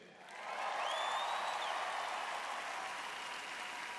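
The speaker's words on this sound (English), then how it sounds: "Everybody, give Ashley a big hand." Audience applause at a Miss Universe pageant swells quickly and holds as a steady wash of clapping, fairly distant, with a faint whistle early on.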